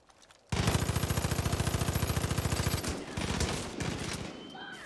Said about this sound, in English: We can probably blast him with the gun.